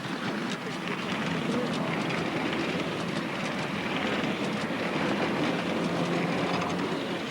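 A 7¼ inch gauge miniature railway locomotive, originally built in 1944, running past at a society gathering: continuous rumbling rail noise with faint clickety-clack, steady and fairly close, with outdoor wind and some indistinct voices underneath.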